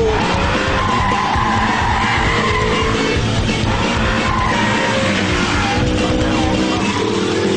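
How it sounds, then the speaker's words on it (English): An Audi R8 slides under power with ESP switched off, its tyres squealing and skidding loudly and continuously over a hard-working engine roar, close to the microphone. "Lift, power, bit of a slide"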